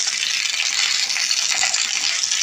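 Whole brinjals fry in hot oil in a pan, giving a dense, loud, continuous sizzle with faint stirring scrapes close by and no voices over it.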